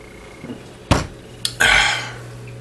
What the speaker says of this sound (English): I'll drink some water